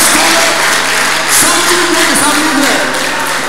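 A church congregation at a Lagos testimony service gives a loud, continuous clap offering, a dense roar of hands mixed with crowd noise, voices and a steady hum from the sound system.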